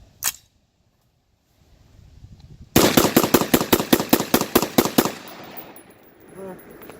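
An AR-15 pistol fires outdoors: a single early shot, then a rapid string of about a dozen loud, sharp reports in steady rhythm, followed by faint ringing and quiet.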